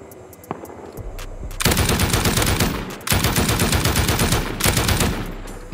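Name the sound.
turrets firing in a video game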